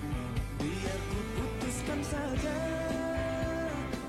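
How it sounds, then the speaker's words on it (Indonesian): Music with a bass boost preset played through Jabra Elite 4 Active earbuds, a steady beat-driven track with thumping low end and a melodic line, heard at moderate level with no talking. "Nah ini kalau ini tuh suara bassnya tuh emang lebih naik sedikit ya."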